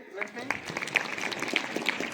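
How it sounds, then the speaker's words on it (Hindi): Schoolchildren at a disaster-awareness session clap together in a loose, uneven patter, with voices talking and calling over the scattered claps. "उनके लिए तालियां होनी चाहिए"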